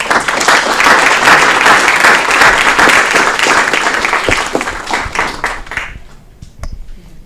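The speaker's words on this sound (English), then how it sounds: "One more round of applause" Loud, dense applause at a city council meeting, many hands clapping close by in a steady roar that thins out and fades to a few scattered claps near the end.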